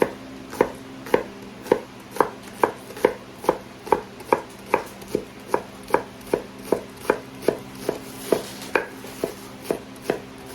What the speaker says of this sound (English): I'm going to cut them up super tiny